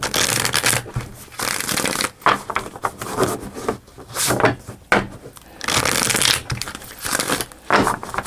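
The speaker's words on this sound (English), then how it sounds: "2 more shuffles." Repeated riffling and snapping of playing cards being shuffled close up, several bursts in a row with brief pauses between.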